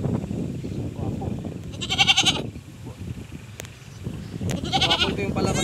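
Two loud, wavering bleats come from a nearby Boer-cross goat, the offspring of a native doe and a purebred Boer buck, over a constant rumble of background noise and movement.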